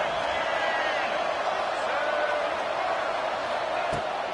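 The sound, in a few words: stadium crowd cheering at college football game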